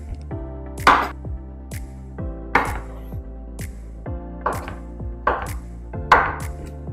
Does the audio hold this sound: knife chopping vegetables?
yes